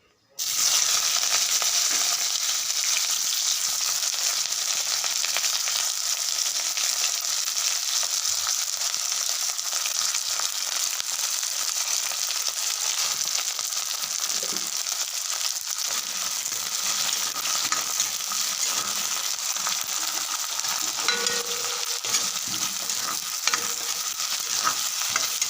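Onions frying in hot oil in a kadai, a loud continuous sizzle with stirring scrapes, close up and steady for the whole stretch, no talk.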